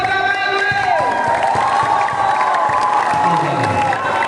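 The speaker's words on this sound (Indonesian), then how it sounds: "berikan tepuk tangan" A crowd cheers and claps at an annual super camp event at an Islamic boarding school in Bener Meriah, with loud shouting, youthful voices and steady applause filling the space, some tonal whistling or singing riding over the noise.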